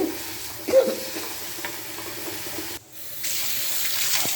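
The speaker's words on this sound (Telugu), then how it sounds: "చింతపండు కూడా ఇలా కడుక్కొని కొద్దిగా నాననివ్వండి" A tap runs steadily while tamarind is washed by hand. Water splashes and gurgles in a sink with small knocks, the flow briefly cutting off and then resuming.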